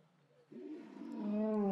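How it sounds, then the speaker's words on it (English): A white lion's roar begins with low grunts and swells into a loud, sustained, moaning roar that grows steadily stronger, heard fairly close with no talking. "Can you hear the roar of the other white lion?"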